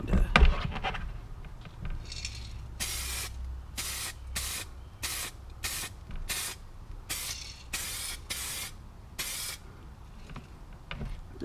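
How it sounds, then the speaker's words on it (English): A series of short DuraCoat aerosol spray bursts on a Glock part, about nine in a row, each a second or less, with brief pauses between, close and fairly loud over a low background hum. "I'm going to do a couple test sprays."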